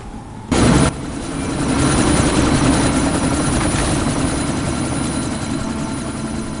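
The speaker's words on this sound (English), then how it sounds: "That chopper's about to take off." A helicopter in the Deus Ex: Mankind Divided video game, its rotor and engine roar rising loud and steady after a short burst of impact noise, then holding as a constant dense whir.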